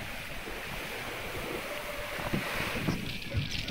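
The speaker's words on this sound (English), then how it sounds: "we've got the wind acceleration up to 30 knots as we pass Tarifa" Strong wind of around 30 knots sweeping over a Pegasus 50 yacht sailing past Tarifa in the Strait of Gibraltar, a steady roaring rush mixed with sea wash and buffeting against the microphone, with no voices.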